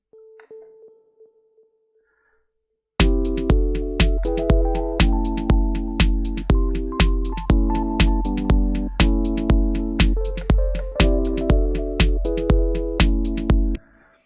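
A bright synth plays a steady rhythmic pattern of plucked notes, each ringing out with a trailing echo, after a short quiet lead-in.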